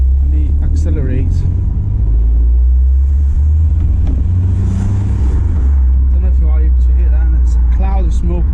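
A 2004 Renault Laguna 1.9 diesel engine accelerates: a steady, heavy low rumble from inside the car that swells with revs and runs throughout, with someone talking over it.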